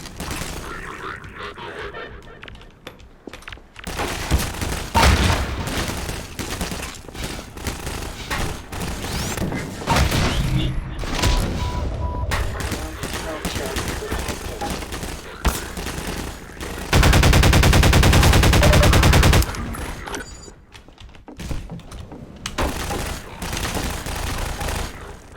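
Gunfire in the Half-Life 2: Lost Coast game, dense bursts of shots and fusillades with thuds and mechanical clatter throughout, peaking in a sustained loud barrage.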